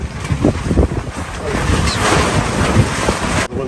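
A strong southeasterly wind gusts across a boatyard during a winter haul-out, buffeting the microphone with loud, steady broadband roar throughout, with a brief dip near the end.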